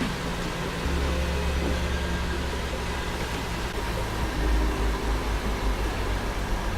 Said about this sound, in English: So here we're just going to see the roof go up as well.